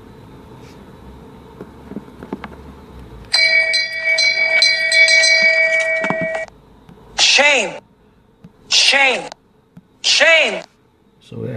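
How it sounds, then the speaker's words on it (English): The Game of Thrones Shame Bell sound effect plays from an app on an iPhone 8 Plus, three separate clanging bell strikes ringing out loud and close with pauses between, after a sustained electronic tone and background talk. "I'm gonna use this pretty funny sound effect apps called Shame Bell."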